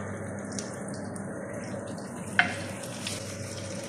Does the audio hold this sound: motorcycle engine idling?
no